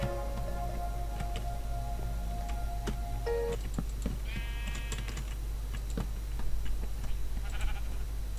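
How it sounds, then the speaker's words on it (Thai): Sheep bleating in Minecraft, a game farm with animal pens, heard among short clicking and tapping sounds like keyboard typing, with a brief tonal call rising above steady background hum. "โอเคครับเรามีแกะแล้ว"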